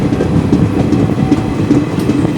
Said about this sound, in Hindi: ट्रेन अपने अगले पड़ाव की ओर बढ़ती हुई